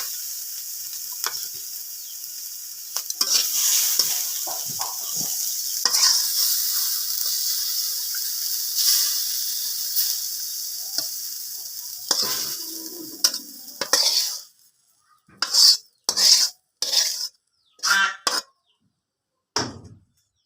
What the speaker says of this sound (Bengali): আমাদের লাউ পাতাটা এই যে ভাজা ভাজা হয়ে গেছে সুন্দর